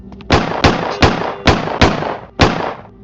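Six sharp, booming gunshots fire at a steady pace in the horror game The Midnight Shift, each loud crack trailing a brief reverberant decay, with no talk over them.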